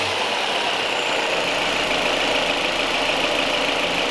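Car engine with an AL4 automatic transmission and 120,000 km, idling in a repair workshop during a transmission fluid change; a steady, close, unbroken hum and hiss with no start heard and no voices.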